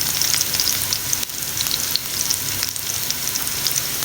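Tomatoes frying in a hot pan for butter chicken, a steady bright sizzle and crackle with soft stirring scrapes, close and continuous with no talking.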